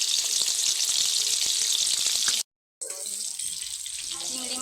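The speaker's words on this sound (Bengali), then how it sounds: "প্রথমেই কিন্তু বাবুর চিংড়ি মাছগুলো ভেজে নেব।" Prawns frying in hot oil in a pan, a dense, bright, continuous sizzle broken by a brief cut, then resuming a little quieter with faint spatters.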